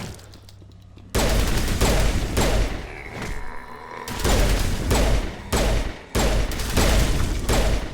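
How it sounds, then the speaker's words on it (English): Pistol fire in the video game Mass Effect Legendary Edition: loud, repeated bursts of shots in several clusters broken by brief pauses, with no talking over them. "Switch over to our pistol, see if we can take one out."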